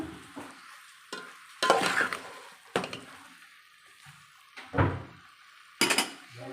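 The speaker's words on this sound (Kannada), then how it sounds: "ನೋಡಿ ಇದರ ಮಸಾಲ ಚೆನ್ನಾಗಿ ಫ್ರೈ ಆಗಬೇಕು" Masala for a soya and vegetable pulao fries in a pan, with a low sizzle broken by five distinct bursts of spoon scraping and stirring at irregular intervals.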